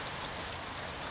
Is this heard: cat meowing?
no